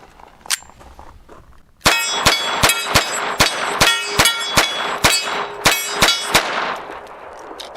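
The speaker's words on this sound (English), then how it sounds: "let's try 12 rounds of Federal Auto Match" A Hammerli 1911 pistol chambered in .22 LR fires Federal Auto Match rounds at a range: a dozen or so sharp, ringing cracks in a fairly even rhythm, close and loud, each shot trailing a metallic ring.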